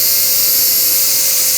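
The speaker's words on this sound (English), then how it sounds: "we're not drilling through nearly as much material" A power drill bores through a 1/16-inch-wall metal box during a launcher assembly build. It gives a steady, high-pitched whine, continuous and loud, with no voices.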